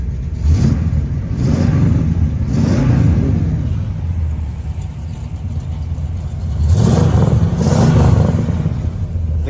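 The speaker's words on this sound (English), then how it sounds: "The car just sounds great." A restored muscle car with a floor shift idles with a steady, loud rumble, and the engine is revved in two bursts, one early and one near the end.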